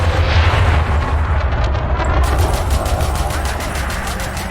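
Weapons firing in the space combat game Elite: Dangerous, a loud, dense, continuous barrage of booming low-end blasts with rapid crackling repeats throughout, no talking.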